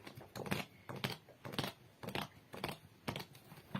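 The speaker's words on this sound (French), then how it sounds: "Donc je mélange un petit peu les cartes." Tarot cards are shuffled by hand in a series of short riffling bursts, about seven quick rustles with brief pauses between, close and fairly quiet.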